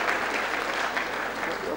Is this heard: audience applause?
yes